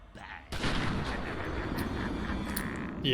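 Joker's gunfire in Batman: Arkham Asylum: a sudden loud blast opens a sustained, rumbling roar of shots that continues close and heavy to the end.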